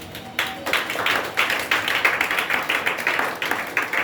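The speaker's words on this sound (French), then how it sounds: "Acclame le Seigneur, s'il te plaît." A church congregation applauds together, a steady run of rhythmic, fairly close claps that carries on without a break and has no talking over it.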